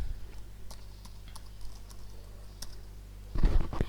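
Typing on a computer keyboard, a sparse run of light clicks over a low steady hum, ending in a louder rustling clatter, close and quiet.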